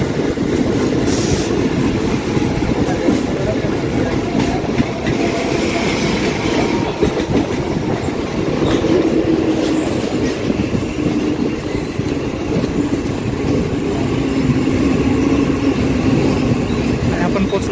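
A Mumbai local train running from Churchgate to Mumbai Central gives a loud continuous rumble and rattle from inside the carriage, with wheel clatter and faint squeals.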